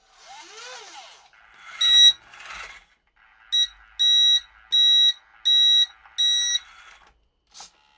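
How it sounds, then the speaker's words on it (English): Reverse beeper on a Linde H40D forklift after a battery conversion: five loud, evenly spaced electronic beeps close by, following a couple of shorter tones and a brief whine, with one final short blip. "Reverse light and beeper."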